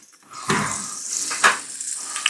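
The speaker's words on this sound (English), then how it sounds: "You can hear it sizzling." Steady crackling sizzle of bacon frying in a Nuwave Bravo Pro smart toaster oven and air fryer, fairly close, with a couple of brief louder spits and no talking.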